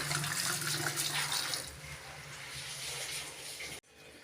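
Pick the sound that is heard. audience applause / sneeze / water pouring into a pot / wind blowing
water pouring into a pot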